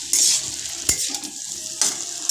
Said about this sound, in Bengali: তো এবার আমি আলুটা ভেজে নেব